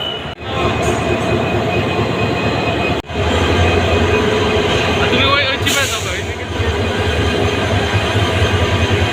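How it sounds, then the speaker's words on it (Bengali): Train locomotive arriving at a station, with a loud, continuous rumble of rolling wheels, metallic squeals and clatter close by and voices talking over it. "আমাদের ইঞ্জিন এসে পড়ছে"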